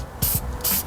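Copper gasket spray hisses from an aerosol can onto a Yamaha Zuma 158cc scooter cylinder gasket in two short close bursts with a brief gap between.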